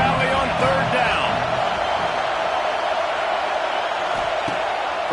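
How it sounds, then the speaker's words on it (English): Large football crowd roaring in Happy Valley during a Nebraska vs Penn State game on third down, a dense, steady wall of loud stadium noise throughout with no break. "Here comes the noise from this big crowd in Happy Valley on third down."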